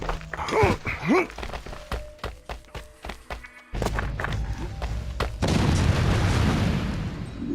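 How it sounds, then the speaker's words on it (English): Dull booms and thuds of explosions land one after another during a siege in Assassin's Creed II, with crackling debris, then a sustained rumbling roar takes over near the end. "Explosions from above, as the siege started again."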